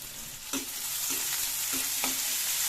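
Vegetables with carrot and garlic stir-fried over a high flame for veg chowmein: a steady loud sizzle fills the clip, broken by a few sharp spatula scrapes against the pan, with no voices.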